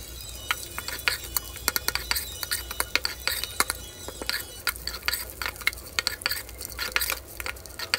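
Garlic rice is stirred and tossed in a pan, with rapid irregular scrapes and metallic clinks of a spoon against the pan over a low background hum.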